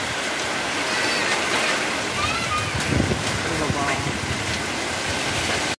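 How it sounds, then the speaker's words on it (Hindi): Small hail and heavy rain pour down during a strong storm, a loud, continuous hiss and patter with splashing water throughout, close by, as a person speaks over it. "छोटा छोटा वाला आइस आज का बारिश में"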